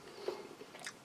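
Close, quiet chewing of a soft item from a 2018 British Army 24-hour brown bag ration pack, with a single bite and a few soft mastication sounds in about a second.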